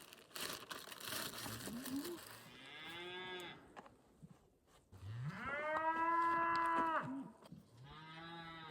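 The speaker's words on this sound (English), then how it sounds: "These cows are not happy." Several cows moo loudly and nearby on the Pacific Crest Trail near Burney Falls, California, long drawn-out bellows one after another, with some rustling and crinkling noise between calls.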